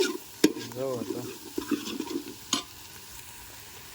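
Onion and garlic tempering for urad dal sizzles in hot oil as it is stirred, giving a few sharp scraping clatters over a soft frying hiss. Someone speaks briefly over it.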